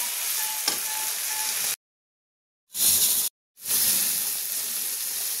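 About 2.5 kilos of sliced ridge gourd fry in oil with poppy seeds, giving a loud, even sizzle close by that cuts out twice briefly before resuming.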